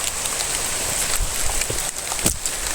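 Sudden heavy rain pours down in a dense, steady hiss of drops striking surfaces, loud and close throughout, with no voices.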